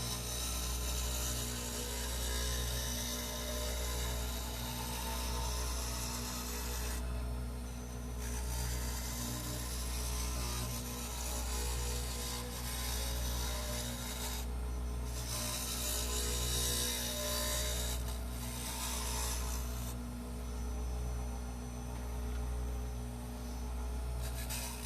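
A 12-inch longtail oblique skew chisel scrapes steadily against a stable piece of wood spinning on a lathe, giving a continuous rasping hiss over the motor's low hum with short breaks, and no one talks.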